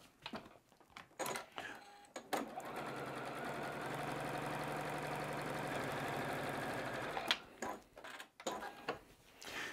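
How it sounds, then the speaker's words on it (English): A sewing machine stitches pinwheel quilt block pieces together in one sustained, fairly quiet run of fast even needle strokes, with short handling noises and fabric rustle before and after. "And then I'd grab the other ones and I would sew these together."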